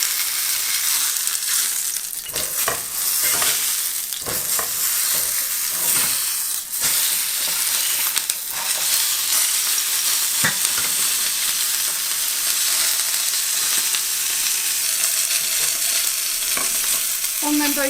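Pieces of rooster sizzle loudly in a hot pan, with a constant frying hiss broken by repeated scraping and stirring knocks from a utensil.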